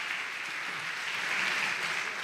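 A church congregation applauds during a homily at a parish Mass, a steady, even wash of many hands clapping throughout, with a faint voice underneath.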